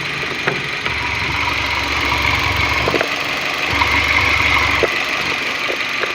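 A car engine with a suspected stuck PCV valve idles steadily and loudly close by, with a constant low rumble and faint ticking throughout.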